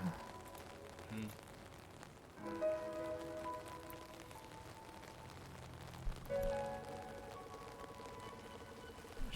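Steady rain patters throughout a rainy street scene in the video game Rain98, a soft continuous hiss with brief musical tones layered over it and no talking.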